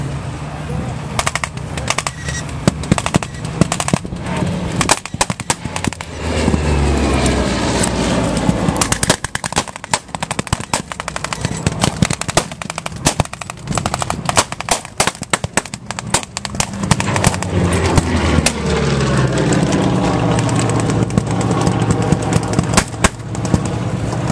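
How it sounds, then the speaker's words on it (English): P-47 Thunderbolt warbirds with radial engines make a strafing run at an air show, with dense bursts of rapid simulated gunfire and pyrotechnic cracks over roaring engines for the whole stretch. A voice comments over the noise. "Here come the Thunderbolts, this time on a striking run."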